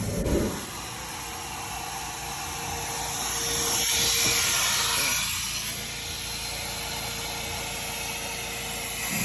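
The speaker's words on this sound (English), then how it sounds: "Nice little vacuum." A vacuum cleaner runs steadily with a broad hissing whine, swelling slightly louder midway and then settling; no voices.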